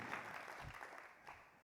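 A short burst of audience clapping during a motivational talk: dense, moderately loud hand claps that cut off abruptly into silence.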